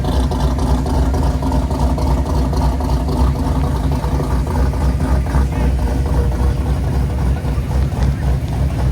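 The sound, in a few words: Vinny's car engine running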